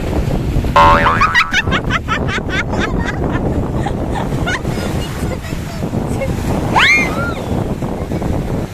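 Strong sea waves surge and wash at the seaside under steady wind, with shouting voices calling out and a bird-like chirp breaking through near the middle.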